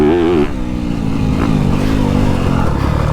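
A 2022 Yamaha YZ250F motocross motorcycle engine is heard while riding, a loud, close, buzzing four-stroke drone that shifts in pitch as the throttle changes, with rough clatter over it.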